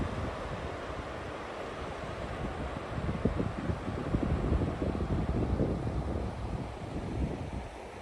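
Gusty wind on a trail near Hope, British Columbia buffets the microphone with a loud, continuous low roar that swells and churns in the middle, with no talking.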